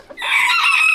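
A Sebastopol rooster gives a single short, close crow, loud and strained, on a small homestead flock of hens and roosters.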